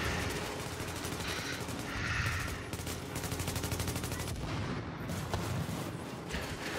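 Gunfire in a first-person shooter, with bursts of rapid shots at moderate level, a steady stretch in the middle and sharper cracks toward the end, with no voices.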